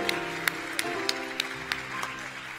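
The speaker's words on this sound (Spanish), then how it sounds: "con este bello público que merece un aplauso" A television show's audience claps with a row of crisp, regularly spaced strikes standing out, while a sustained musical tone hums underneath.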